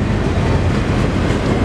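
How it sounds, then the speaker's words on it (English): A CSX Pacer intermodal double-stack train rolls past with a loud, steady roar and rumble, continuous and close, with no talking over it. "CSX, Pacer stack train"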